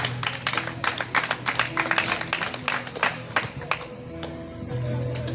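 A congregation claps together during a church prayer service, a steady patter of many hands that fills the room, with some voices mixed in beneath the applause.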